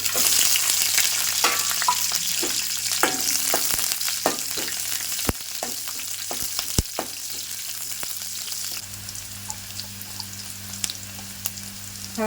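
Chopped onion and green chillies sizzle and crackle steadily in hot oil in a pan, with scattered pops and occasional stirring clinks, close and continuous throughout.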